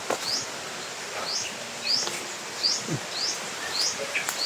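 Small birds chirp in repeated quick, bright calls near a nest in the mountains, moderately close, with rustling and a faint insect hum underneath.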